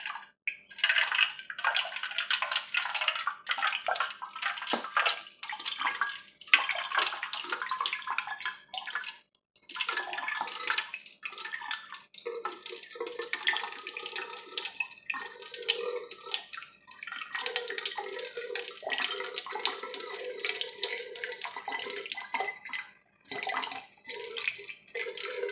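Water drips and trickles steadily into an aluminum container, a bright, close, continuous patter with brief pauses, heard alone without talk.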